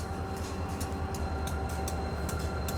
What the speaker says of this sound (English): The train, guys.